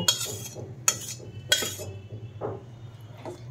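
A metal spoon clinks sharply against a pot a few times, then scrapes and stirs softly, close by, over a low steady hum, as sautéed spices are mixed into hot water for vegetarian khichuri with Gobindobhog rice.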